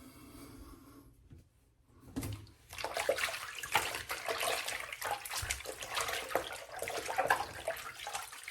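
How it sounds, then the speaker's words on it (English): Hot water runs from a tap into a sink during a straight razor shave, a steady close splashing rush that starts after a brief quiet pause and continues without talk. "Time to run some more hot water"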